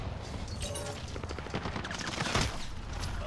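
Rapid bursts of gunfire crackle through an online shooter game, dense and continuous, with fast repeated shots overlapping at moderate loudness.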